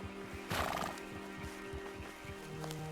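A horse in the Red Dead Redemption 2 video game whinnies loudly for about half a second, then its hooves clip-clop at a slow, steady walk under low game ambience, with no one talking.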